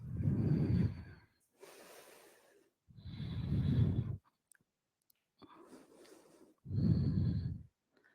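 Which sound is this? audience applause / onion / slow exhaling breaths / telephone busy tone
slow exhaling breaths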